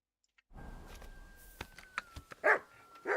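A dog in the video game Kingdom Come Deliverance 2 gives a few sharp barks and yips, with two louder barks toward the end over a quiet background and a faint steady tone.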